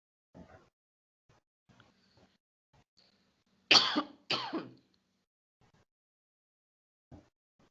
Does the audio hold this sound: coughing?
yes